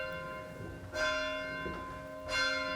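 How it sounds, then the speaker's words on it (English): Large tolling bell rung by rope pull at a wedding venue estate, two resonant strikes about a second and a half apart, each ringing out with long humming overtones that linger and fade between strokes, moderately distant with no talk. "tolling bell that really signifies the union of your wedding day"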